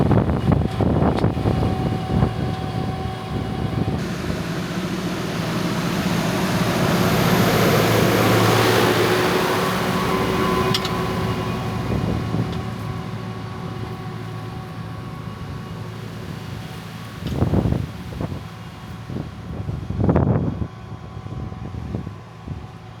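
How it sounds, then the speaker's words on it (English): Wind blows steadily across the microphone outdoors on a farm, a continuous broadband rush that swells in the middle and is broken later by a few louder gusts or thumps. "it's windy today, and hopefully it's not too windy to record"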